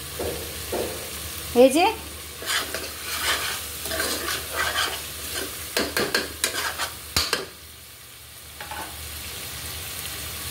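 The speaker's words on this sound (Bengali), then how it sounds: "সয়া সস, গোলমরিচ গুঁড়া, কাঁচামরিচ ছেঁচা সব কিছু দিয়ে তাহলে একটু কষিয়ে নিচ্ছি চিংড়িটি।" Prawns stir-fried in a pan with onion, soy sauce, ground pepper and crushed green chilli, with steady sizzling and repeated scraping stirs throughout, a few louder clatters, and a brief voice speaking partway through.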